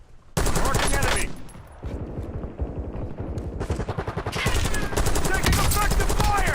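Gunfire in the shooter game Warzone: loud, close rapid automatic bursts that rattle nearly nonstop, with brief lulls between strings of shots.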